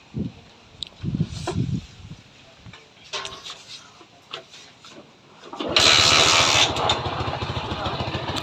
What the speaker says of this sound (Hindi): तो यहाँ पे देखिए इस बाइक की जो साउंड है बिल्कुल क्लियर